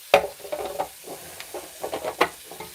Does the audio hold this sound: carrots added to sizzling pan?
yes